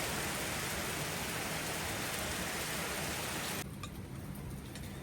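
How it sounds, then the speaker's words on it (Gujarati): A soft, even hiss of light rain falling steadily, faint and continuous, which thins out and quiets toward the end. "મસ્ત ઝીણો ઝીણો વરસાદ ફરીથી શરૂ થઈ ગયો છે"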